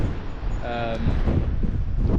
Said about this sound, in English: It's about 45-mile-an-hour gusts of wind.